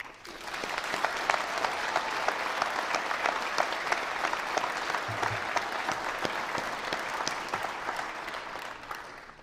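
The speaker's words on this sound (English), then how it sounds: "Please join me in recognizing these students with your applause." Sustained audience applause at a 2021 Manchester University commencement ceremony, steady dense clapping from a large crowd for the full length, with no speech over it.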